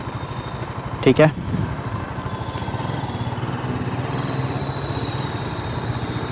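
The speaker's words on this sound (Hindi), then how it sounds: "सबसे पहले बाइक स्टार्ट" A TVS Apache RTR 310 motorcycle cranks with a brief burst, then settles into a steady, close idle rumble; a short spoken remark comes just before the start.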